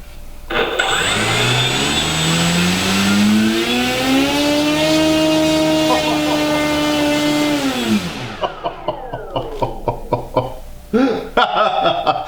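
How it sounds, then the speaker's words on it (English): Electric motor of an E-flite Extra 300 RC plane on a 4-cell battery spinning an old wooden prop, a loud rising whine that holds steady for several seconds, then winds down abruptly with clicks and handling noise after. "let's just see what this this old wooden prop wants to do"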